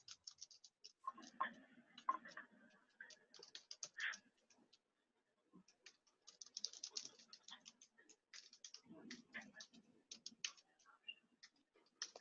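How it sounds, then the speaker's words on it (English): Someone types text on a computer keyboard in an eLearning LMS setting, producing quiet, irregular key clicks in bursts with a short pause partway through. A faint voice can be heard underneath. "So I am typing some extra text."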